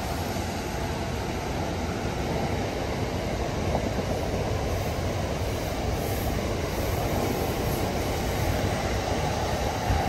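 A freight train rumbles past close by between Mytholmroyd and Sowerby Bridge in a steady, continuous roar of rolling wagons, loud throughout with no voices.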